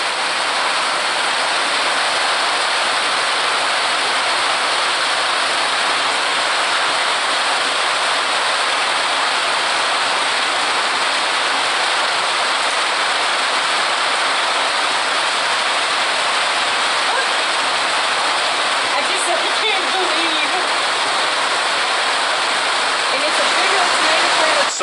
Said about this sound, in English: Let's go play in the rain,